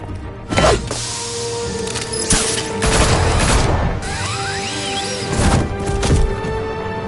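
Gunfire aimed at Batman in Batman The Telltale Series, with several loud sharp bursts and crashes over a steady mechanical background, no voices.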